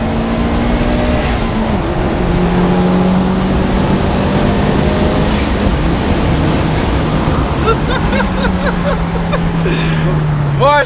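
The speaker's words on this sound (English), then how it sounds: "Gonna get a pull from the Subaru now" A Subaru Legacy STI engine pulls hard under acceleration, its loud rising drone and turbo whine sweeping upward across several gears, heard from inside the car.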